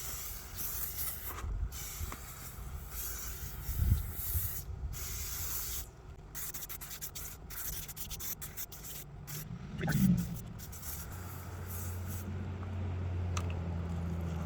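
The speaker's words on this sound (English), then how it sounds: "Foams up real nice, so you can tell where you sprayed, so that's a good thing." A foaming cleaner hisses from a spray can in irregular bursts onto the chassis of an MLBK 70 being rebuilt, close and moderately loud, with two heavier rubbing or handling thumps in between.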